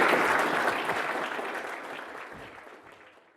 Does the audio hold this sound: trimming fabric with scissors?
no